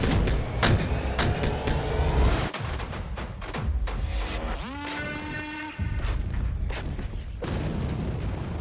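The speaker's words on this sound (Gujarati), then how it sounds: "પહાડો પર પરાક્રમના અચૂક હથિયાર અલ્ટ્રાલાઇટ હોવિત્ઝર." An ultralight howitzer fires in mountain terrain: a string of sharp, loud blasts cracks out over a rumbling background, with a rising mechanical whine in the middle and no voices.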